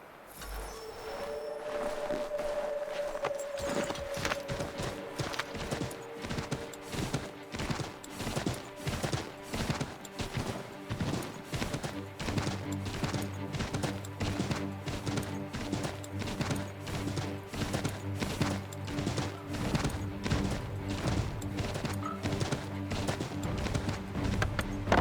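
A horse gallops in Assassin's Creed III Remastered, with rapid, steady hoofbeat clip-clops running continuously over a low musical drone. A few sharp hits and a short neigh-like tone come early.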